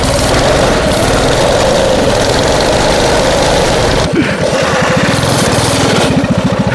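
A homemade go-kart's small carburetted engine runs loud and close, a steady throbbing drone with a brief dip near the four-second mark before the pulsing chugs return.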